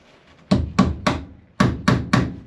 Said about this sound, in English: Hold your hammer down towards the bottom and let the weight of the hammer head drive the nail.